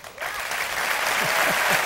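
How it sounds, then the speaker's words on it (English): A television studio audience gives a brief smattering of applause on a late-night talk show, a steady moderate patter of clapping with a faint voice murmuring underneath. "A smattering of applause"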